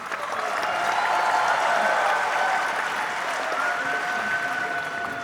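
An audience applauds steadily to welcome filmmaker Anurag Kashyap at an Urdu literary festival event, a dense, even wash of clapping with crowd murmur, steady loudness throughout, and faint sustained musical tones in the background.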